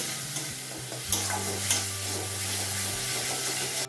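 Masala cooked until the oil separates, with salt and turmeric added, sizzles in a pan for a Bengali kancha kola kofta curry; steady frying hiss with a few scraping stirs and a low hum underneath.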